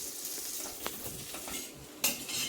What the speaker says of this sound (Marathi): त्याच्यामध्ये मनुके टाकते। ते चांगलं भाजून घ्यायचं।